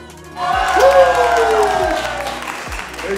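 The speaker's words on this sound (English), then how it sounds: "Big round of applause, guys." A group applauds and cheers after a bodyweight workout challenge, a sustained burst of clapping and whoops lasting about three seconds, with a voice briefly audible.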